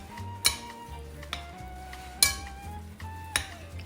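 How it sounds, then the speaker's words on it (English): Utensils clink and scrape against a bowl as three ground meats are blended with onions and green peppers for meatloaf, a few distinct knocks over a soft, steady mixing rustle. "And let's mix all that together."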